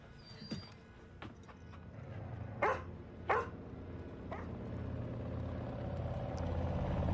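A dog from the first episode of The Last of Us barks a few times in short, sharp bursts at mid distance over a steady low rumble of background sound, with no talking.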